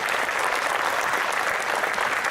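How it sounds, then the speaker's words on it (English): A steady, dense wash of audience applause at a university alumni spring reunion, honoring former outstanding graduates; loud and continuous throughout with no talking over it. "Please recognize our former outstanding graduates with your applause."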